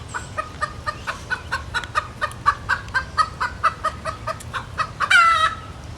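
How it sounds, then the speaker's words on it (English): A broody hen, just pulled off her eggs, clucks in a rapid, steady series of sharp calls, close by, ending in a louder agitated squawk; low farmyard hum underneath. "You got a broody hen over here too. She's acting crazy."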